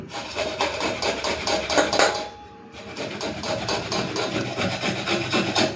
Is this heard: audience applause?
no